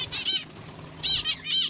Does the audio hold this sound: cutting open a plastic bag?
no